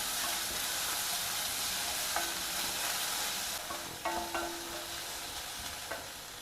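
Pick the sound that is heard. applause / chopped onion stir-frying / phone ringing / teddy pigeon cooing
chopped onion stir-frying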